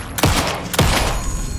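Two gunshots in Alan Wake 2, each a sharp loud crack a little over half a second apart, ringing out into a dense, noisy echoing tail with no talk.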